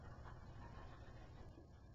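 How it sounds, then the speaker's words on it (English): A big dog panting in steady, rapid breaths, close and continuous, with no voices over it. "Yes, it's a big dog."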